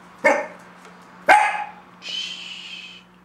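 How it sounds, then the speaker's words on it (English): A dog gives two sharp, close barks about a second apart, followed by a higher whining yelp, in an indoor room. "What you barking at?"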